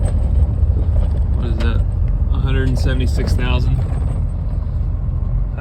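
A 2004 Ford F350 pickup fitted with a swapped Cummins diesel engine idles loudly and steadily close by, its heavy rumble continuous beneath a brief bit of talking.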